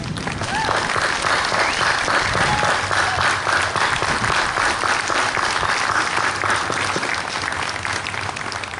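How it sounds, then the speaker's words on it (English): Steady, sustained applause from a crowd honoring veterans, some aged 100 and older, at a 100th-anniversary memorial ceremony at Woodlawn Cemetery's Next of Kin Memorial Avenue in Saskatoon, continuing loud and even throughout. "help me give a round of applause to our veterans"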